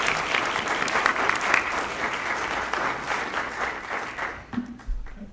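Sustained audience applause at a law colloquium on HIV-based discrimination, a dense wash of many hands clapping that holds steady and thins out near the end.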